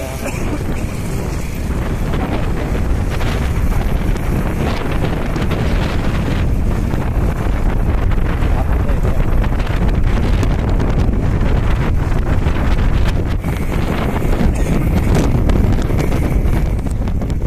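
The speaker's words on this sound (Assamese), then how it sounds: "ঠাণ্ডা ফেৰফেৰীয়া বতাহ" Strong, constant cold wind roaring and buffeting across the microphone on a motorcycle ride from Srinagar toward Zojila Pass, loud and unbroken, with a faint voice buried beneath.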